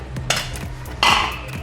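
A spoon striking and scraping a cooking pot while egusi soup is stirred, a few close metallic clinks in quick succession.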